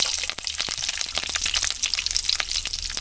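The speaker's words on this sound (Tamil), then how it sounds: "இப்போ தேவையான கடுகு போட்டுக்கலாம் அப்படியே ஒரு வெங்காயம் தேவையான அளவு" Mustard seeds and onion crackle in hot oil for a Tamil egg gravy, producing a dense, continuous close sizzle full of sharp pops and spitting crackles, loud and unbroken, with no voice over it.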